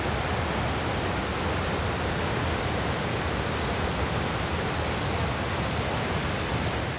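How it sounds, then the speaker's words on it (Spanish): A powerful river in Colombia rushes steadily, a loud, dense, unbroken roar of churning water filling the whole span with no pauses. "Y miren ahí atrás la fuerza del agua. Realmente impresionante."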